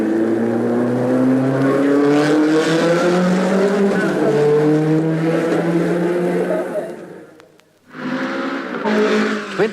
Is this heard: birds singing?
no